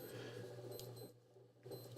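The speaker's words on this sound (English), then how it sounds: "let's get rid of that alarm." A blood glucose monitor sounds its alarm with steady, high electronic beeping tones over a constant hum, briefly dipping before resuming, with no talking.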